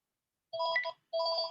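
A mobile phone ringing indoors, two short bursts of a bright electronic ringtone melody separated by a brief pause, clear and moderately close with silence before it.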